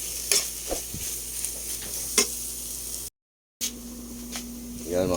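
Tuna flakes and egg frying in a pan, with a steady sizzle and scattered scrapes and taps of stirring. The sizzle stops briefly, then returns, and it is heard alone, with no talk.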